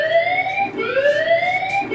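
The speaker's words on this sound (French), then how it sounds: "une sirène se déclenche" An alert siren at an emergency call centre, set off by an incoming rescue-request text message, a loud rising and falling wail that repeats steadily with no talking.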